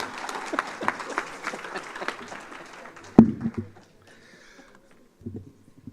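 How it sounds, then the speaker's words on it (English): Audience at a Labour Activation Programme project launch applauding a man, a few seconds of scattered clapping mixed with other sounds, followed by a sharp knock and then near quiet. "if you give a round of applause to this man"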